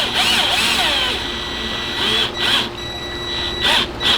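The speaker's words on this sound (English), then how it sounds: "I was able to screw in this piece pretty secure" Power drill driving small screws at an angle into the wooden wall boards of an Aleko Liatris barrel sauna, heard as several short, close, whining bursts with pauses between them.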